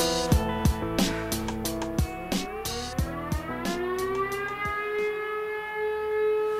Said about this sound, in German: deswegen gehen bei uns immer die Sirenen an